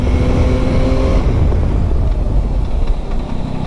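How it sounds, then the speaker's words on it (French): A Yamaha Tracer 9 GT motorcycle is braking hard on an open road. Loud engine and wind noise heard from the saddle fade as the bike slows, with no voices. "je vais faire un petit test de freinage"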